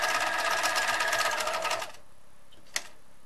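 Sewing machine stitching a men's shirt collar, a fast steady whirring hum for almost two seconds that stops abruptly, then one faint click in the quiet.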